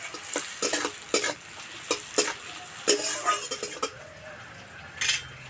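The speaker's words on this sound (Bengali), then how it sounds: "এবার দেবো পেঁয়াজ কুচি, পেঁয়াজ বেশি ভাজবো না," Chopped onions go into a pan for a home-style egg and potato curry and are fried lightly, with stirring scrapes and sharp clinks of a utensil against the pan over a faint sizzle, in irregular bursts close by.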